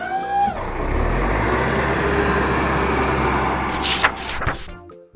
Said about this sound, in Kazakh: Жақсы, бұл трактор.